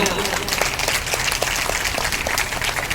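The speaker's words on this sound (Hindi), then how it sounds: "जोरदार तालियां" Steady applause from a crowd at a religious Hari Katha gathering at a temple in Gharsana fills the space, a dense wash of clapping continuing throughout.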